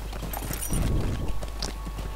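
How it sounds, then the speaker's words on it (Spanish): Horse hooves clip-clop at a walking pace in the video game Lord of the Rings Online, a series of soft, moderately close hoofbeats over a low background hum. "llevemos el caballo a beber agua"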